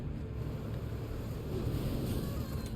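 A sudden wind gust whips out from an enemy's attack in a swampy game level, a steady broad rushing blast of air that stays loud and a little stronger toward the end.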